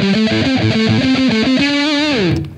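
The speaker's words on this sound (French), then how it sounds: "On va pousser le sustain, on va pousser un peu le volume et je vais juste rajouter la Deep Blue en fond pour avoir une légère réverb." Electric guitar played through distortion with boosted sustain, raised volume and a light Deep Blue reverb pedal, a quick riff of bright overdriven notes ending in a long held bend that rings out, loud and alone.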